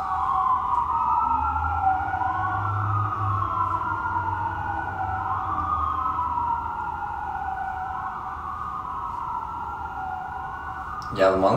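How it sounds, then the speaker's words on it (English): Emergency vehicle sirens wail continuously, their rising and falling tones sweeping up and down as they pass at moderate distance over a low rumble of traffic, with a brief clunk at the very end. "More sirens, more sirens."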